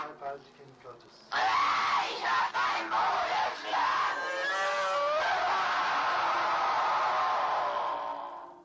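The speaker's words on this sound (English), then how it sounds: "Just listen to the recordings of the priests and you'll hear these bone-chilling screams." Loud, sustained screaming and anguished yelling recorded during an exorcism, harsh and strained, rising into a long wailing cry that fades out.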